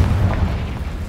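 A fire-blast explosion from the Confringo spell in Hogwarts Legacy fills the moment with a loud, dense, rumbling boom that stays steady throughout without a clear onset.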